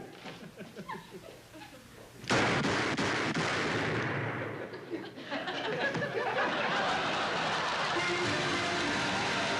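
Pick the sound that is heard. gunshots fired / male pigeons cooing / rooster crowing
gunshots fired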